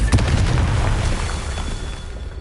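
A Confringo fire blast spell exploding in the game Hogwarts Legacy, a single loud booming burst that rolls off into a fading rumble.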